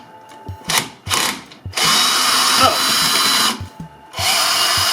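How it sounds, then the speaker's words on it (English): Cordless power drill driving out rusty retainers on a Scimitar restoration, several short loud bursts then a long sustained whine, stopping and restarting close by, with a brief spoken exclamation. "it's a lot easier when you've actually charged your drill"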